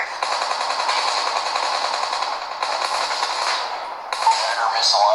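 Rapid automatic machine gun fire from the Call of Duty video game rattles on in dense sustained bursts, pausing briefly before starting up again, loud and close.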